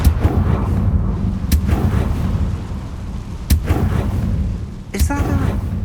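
Confringo fire spell blasts in Hogwarts Legacy, sharp loud booming impacts landing a few times over a rumbling battle din, with a crackling burst near the end.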